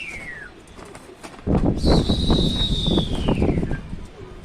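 Pigeons call with a couple of descending whistle-like sweeps over a rising bed of rustling and flutter, close by, with no talking.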